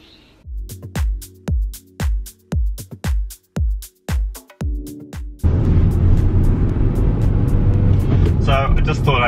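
A car being driven on a very hot day: a series of evenly spaced loud thumping pulses first, then a steady, loud broadband rumble of the moving vehicle for the rest of the clip.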